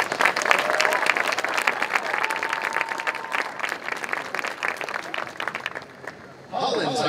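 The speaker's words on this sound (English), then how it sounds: "Round of applause." An audience at a school band music performance assessment breaks into loud, sustained applause that fades toward the end, with a voice briefly speaking over it and a short pause before more sound returns.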